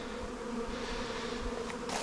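Honeybees hum steadily at the small entrance of a backyard hive, a dense, continuous buzz that stays close and even for the whole stretch with no voices.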